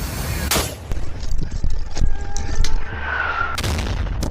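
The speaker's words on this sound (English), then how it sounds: "The mortar explodes nearby," A mortar round explodes nearby on a front-line trench position in Ukraine, sharp loud blasts with gunfire-like cracks and booms scattered across a few seconds, close and harsh.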